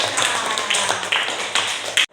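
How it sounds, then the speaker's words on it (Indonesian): Classroom applause for Mbak Nela during a lesson, a short burst of scattered clapping from a small group with sharp taps repeating for about two seconds before stopping abruptly. "Tepuk tangan untuk Mbak Nela."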